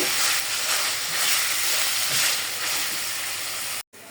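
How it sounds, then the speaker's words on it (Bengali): Chicken pieces frying with onions in a pan for soup, seasoned with ginger, garlic and black pepper, giving a steady close sizzle and hiss that cuts off abruptly near the end. "আমি পেঁয়াজে একটু মাংসটা ভেজে নিচ্ছি।"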